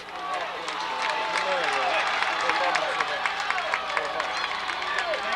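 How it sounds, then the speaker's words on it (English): Norristown fans at a 1998 football game against CB West clap and cheer in a steady crowd roar from the stands, while a commentator talks over it. "the Norristown fans cheering on the offense"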